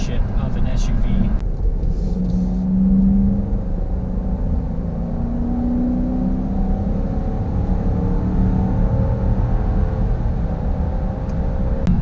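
A 2019 Dodge Durango R/T SUV cruising on a highway, with steady low road and engine rumble and continuous tire noise throughout, heard from inside the cabin with a person talking over it.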